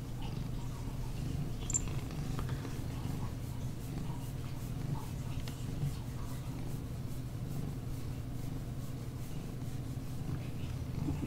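A cat sitting on a computer keyboard purrs softly and continuously, a low, close, rhythmic rumble with occasional faint clicks of keys.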